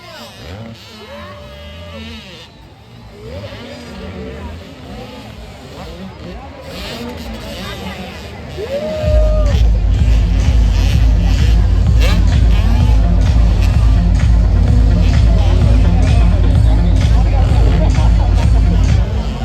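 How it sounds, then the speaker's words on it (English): Supercross motorcycles race at a night championship finale, engines buzzing and revving amid crowd babble before a loud, sustained deep rumble takes over, with people talking nearby. "check out the bike sounds"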